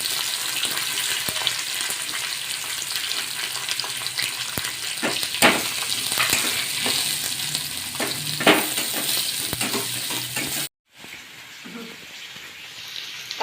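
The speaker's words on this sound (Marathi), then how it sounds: "आता आपण कांदा परतून घेऊया।" Chopped onion sautés in a pan after green chillies, giving a steady bright sizzle, close and loud, broken by scattered scrapes and knocks of a stirring spoon. The sizzle cuts out for a moment near the end and then resumes more quietly.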